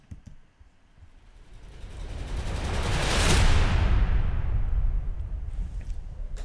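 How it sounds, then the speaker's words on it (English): Cinematic drum rolls and impacts from sample packs, swelling from a quiet start into a loud, booming rumbling crescendo around the middle and sustaining with a thick low-end wash. "some drums from the cinematic packs, and they sound like this."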